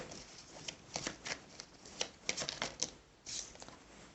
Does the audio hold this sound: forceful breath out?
no